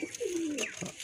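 A single fairly faint pigeon coo, a smooth low falling call with a lighter note after it, from a long-tailed pigeon kept for flying.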